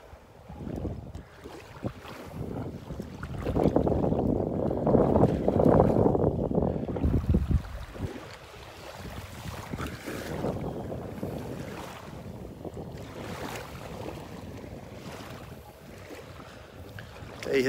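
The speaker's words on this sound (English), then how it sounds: "Very breezy out there this morning" Strong breeze buffets the microphone on a beach in North Naples, Florida, a steady rushing roar that swells loudest for a few seconds before settling into a continuous gusty hiss, with surf faintly underneath.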